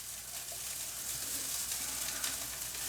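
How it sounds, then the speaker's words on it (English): Rice and chips being stirred and broken up in a hot frying pan for egg fried rice, giving a steady, close sizzling hiss with soft scraping throughout. "Give it a stir."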